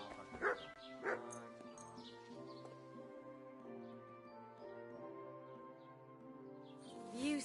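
A dog in Kingdom Come: Deliverance II, a medieval role-playing game, gives two quick yips near the start and another at the end, over a quiet backdrop of sustained tonal ambience and murmured voices.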